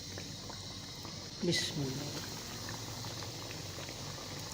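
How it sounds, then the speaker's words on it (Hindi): Crumb-coated marinated chicken deep frying in hot cooking oil over a medium flame, a steady dense sizzle and bubbling crackle that swells briefly as pieces go in, under someone speaking. "चिकन को मैं फ्राई कर रहा हूँ तकरीबन 7 से 8 मिनट।"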